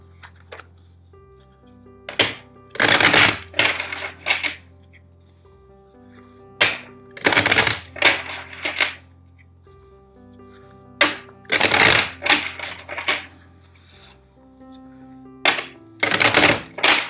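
Tarot cards are shuffled in four distinct bursts of rapid riffling, each a few seconds long, with quiet pauses and light handling sounds between them.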